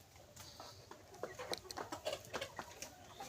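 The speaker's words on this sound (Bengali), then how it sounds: "অরিজিনাল মিশরি ফার্মি মুরগি। আমার এখানে মুরগি আছে 115 পিস।" Egyptian farm chickens on a flock farm of about 115 birds, hens and roosters, clucking and chirping in short, scattered calls at moderate distance, without talk.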